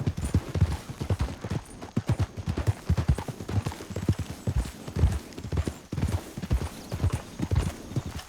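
Steady clip-clop of trotting horse hooves in Red Dead Redemption 2, a brisk even rhythm that carries on without pause, fairly close and moderately loud.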